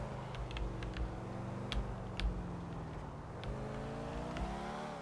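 Engine of a car steadily driving and revving in Grand Theft Auto IV, a continuous loud drone with shifting pitch as it accelerates, plus a few brief clicks on top and no talk.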